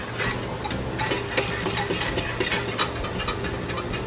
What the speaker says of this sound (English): And you want to whisk this through.